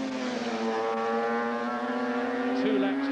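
Suzuki racing motorcycles howl past at Brands Hatch, a steady high-pitched engine drone with strong tonal harmonics holding pitch over a few seconds, loud and continuous.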